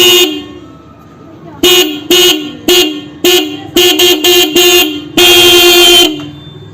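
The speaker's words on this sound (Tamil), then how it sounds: "அது மாதிரி ஹார்ன் மாட்டினா நமக்கு சவுண்ட் நல்லா ஹெவியாக இருக்கும்." Loud, close blasts from a vehicle horn wired through a ready-made relay kit: a series of short honks in an uneven rhythm, then one long sustained blast, with quiet pauses between.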